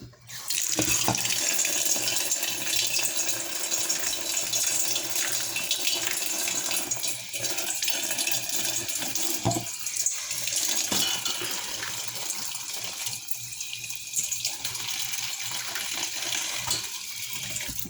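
Water runs from a tap in a steady, close splashing rush as a dusty artificial flower is rinsed under it, the flow spattering and gurgling unevenly as the flower is moved, with no talking.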